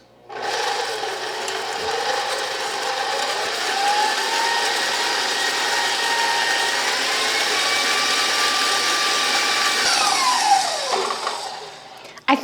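An electric mixer whirs steadily while mixing homemade brown sugar, a close motor drone that shifts pitch slightly as it runs, then winds down and stops near the end.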